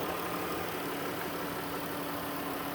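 A 3.6-litre V6 engine of a 2019 Dodge Caravan SE Plus idles with the hood open, a steady, even hum with a constant broadband rumble, holding at the same level throughout with no changes in pitch.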